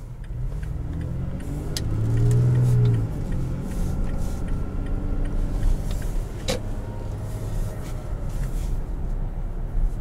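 A 2018 Toyota Tacoma TRD Sport automatic driving at low speed, a steady low engine drone with road rumble inside the cab, a slight rise in engine note early on, no talk.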